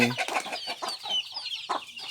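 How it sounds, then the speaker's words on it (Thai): Backyard chickens cluck during feeding in a short burst of overlapping calls, close and fairly loud, with a few brief squawks and no talking. "ไก่อยู่หลังบ้านนะครับ วันนี้แม่มาให้อาหารไก่"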